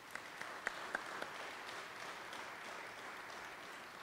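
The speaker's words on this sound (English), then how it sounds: "We'll give one more round of applause to the friends and the families and the support systems that are here today" An audience at an apprenticeship graduation ceremony claps in a steady, fairly distant round of applause inside a hall, with a few sharper claps standing out early on.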